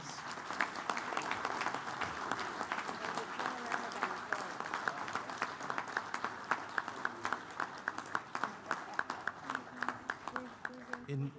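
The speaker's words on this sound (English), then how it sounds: "We could have a round of applause for the awardees." An audience at a national board meeting gives a round of applause for award recipients, steady clapping that gradually thins into separate claps near the end.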